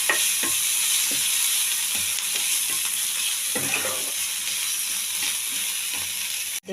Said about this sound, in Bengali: পেঁয়াজ আর গাজর প্রায় ভাজা হয়ে এসছে